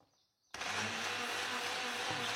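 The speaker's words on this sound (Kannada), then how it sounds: "ಇದನ್ನ ಇನ್ನೊಂದು ರೌಂಡ್ ಮಿಕ್ಸಿಗೆ ಹಾಕಿ ತಿರ್ಗಾ ಒಂದ್ಸತಿ ಜರಡಿ ಮಾಡಿ ಆಯ್ತು" An electric mixer grinder in a home kitchen grinding spice powder for Smartha Brahmin-style thili saaru (rasam), starting abruptly after a quiet moment into a steady loud whirring buzz that holds to the end.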